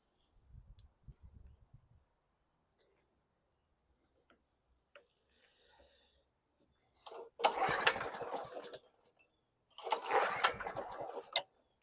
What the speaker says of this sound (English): Let me pull on it now.